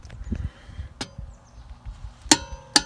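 Torque wrench set to 88 pound-feet on a 17 mm socket tightening the wheel lug nuts of a VW Jetta 2.0 Turbo, a few sharp separate clicks and taps against a quiet background.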